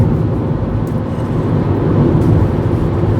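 A van with a freshly repaired engine driving along, a loud continuous low rumble and road roar heard from inside, steady with no speech.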